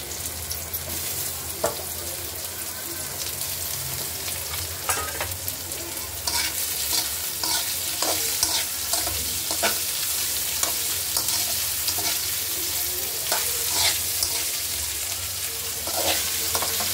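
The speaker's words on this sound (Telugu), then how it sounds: "కొద్దిసేపు అయితే వేయించుదామండి ఆయిల్లోనే" Raw banana pieces fry in oil with a dense, continuous sizzle and crackle, broken by intermittent stirring scrapes throughout.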